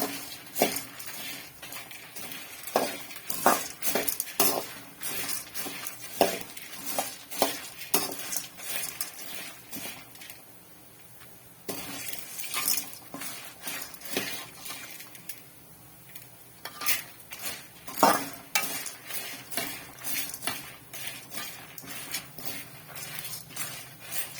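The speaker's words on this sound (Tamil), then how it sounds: "கொஞ்ச நேரம் நல்லா வறுத்துக்கலாம்" Ingredients for a drumstick leaf dal powder dry-roasting in a pan, with repeated scraping and clinking of a metal spoon stirring against the pan in uneven bursts and brief pauses, close and clear, no voices.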